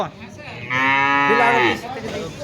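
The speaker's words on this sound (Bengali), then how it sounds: "এই গরু দিচ্ছে, গরু নিতে এসেছি" A heifer calf being handed out by a rural livestock development office lows once, a loud, sustained moo of about a second rising out of quiet background noise.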